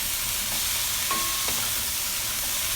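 Cabbage is stirred with tilapia in a hot pan, giving a steady, faint sizzle and hiss with light scraping of the utensil throughout, and no voices.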